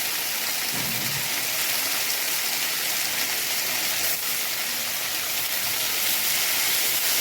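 Water pours steadily into a cooking pot holding potatoes, turmeric, chilli and drumstick leaves, a continuous close rushing splash that holds at an even level throughout.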